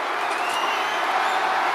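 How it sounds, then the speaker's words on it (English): A wrestling arena crowd in the WWE 2K25 video game gives off a sustained, dense roar, loud and even throughout with no break, like a packed stadium at fever pitch. "The roar of this crowd has been building, and they are in a fever pitch right now"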